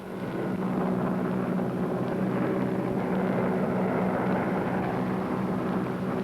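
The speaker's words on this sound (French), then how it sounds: "l'avion est déjà reparti mystérieux comme il était venu" A wartime transport airplane fades away after dropping parachutes and weapons over France at night, its steady broadband engine drone holding loud and even throughout with no voices.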